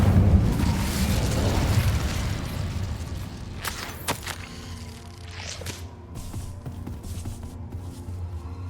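Bombarda and Incendio spell explosions in Hogwarts Legacy, a heavy rumbling blast at first that decays into crackling debris and scattered sharp pops.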